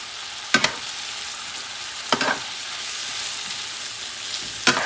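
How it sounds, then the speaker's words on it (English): Leftover turkey paella topped with smoked paprika sizzles softly in a pan while a utensil stirs it, giving three brief scraping strokes spaced over a faint, steady frying hiss. "Mix it up. Mix everything together."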